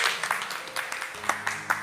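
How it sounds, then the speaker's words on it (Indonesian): An audience breaking into brief applause at a talk: a short burst of scattered hand claps at moderate distance, fairly faint, with a low murmur of voices underneath. "Tepuk tangan dulu biar semangat."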